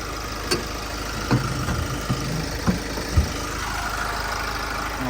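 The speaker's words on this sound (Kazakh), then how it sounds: "Машина жүрүп турат." A Chevrolet Tracker with a 1.6 diesel engine idles in a steady, close mechanical drone, with a few soft knocks and clicks scattered over the running engine.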